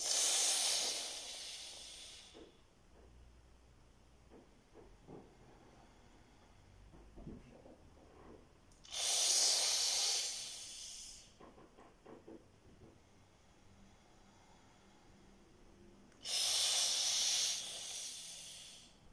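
Sitali cooling pranayama breathing: long, loud hissing inhales drawn through the mouth come about every seven seconds, close and alone, with quiet breath pauses in between.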